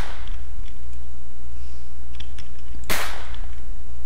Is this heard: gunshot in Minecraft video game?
yes